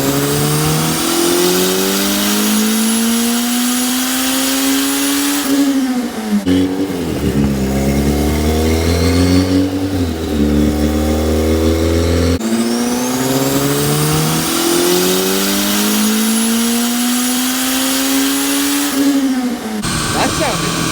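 Boosted Honda CRX engine on a dyno, running with bigger injectors: loud, close revs that climb and fall repeatedly, rising to high pitch with deep roaring between pulls, and voices over it.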